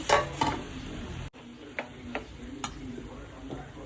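Prawns frying in a pan with green chillies and curry leaves, a soft steady sizzle with a few scraping stirs and clicks, close and fairly quiet.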